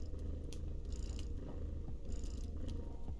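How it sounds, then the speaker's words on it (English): A pet cat purrs close by in a quiet room, a steady soft low rumble that holds without a break, with a few faint small clicks and rustles over it. "you hear the kitty purring"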